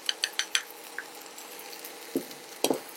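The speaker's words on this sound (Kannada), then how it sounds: "ಪೇಸ್ಟ್ ಅಂದ್ರೆ ಶುಂಠಿ ಬೆಳ್ಳುಳ್ಳಿ ಪೇಸ್ಟ್ ಹಸಿ ವಾಸನೆ ಹೋಗೋವರೆಗೂ ಸ್ವಲ್ಪ ಫ್ರೈ ಮಾಡ್ಕೊಳ್ಳೋಣ" Ginger garlic paste frying in a pan with a faint steady sizzle beneath a run of quick, sharp spatula taps and scrapes close by.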